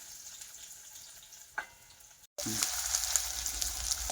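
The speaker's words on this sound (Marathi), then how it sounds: "असं कांदा टाकलं की छान भाजून घ्यायचं" Finely chopped onion, added after cumin and mustard seeds, fries in a pan for stuffed brinjal, a faint sizzle that jumps louder after a brief cut, steady and close.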